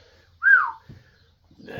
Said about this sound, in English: look, we whistled and everything